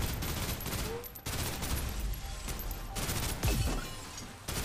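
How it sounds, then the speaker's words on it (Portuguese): Gunfire while shooting enemies in the video game Snowbreak Containment Zone: sustained rapid automatic bursts broken by short pauses, loud and close, with crashing impacts. "Vamos continuar atirando."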